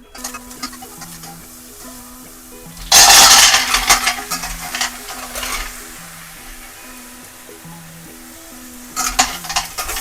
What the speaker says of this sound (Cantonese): 爆香啲配料